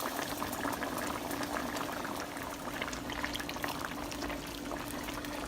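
Turkey broth with turkey wings bubbles at a steady simmer in a pot, a continuous close, dense boil of popping bubbles with no talk.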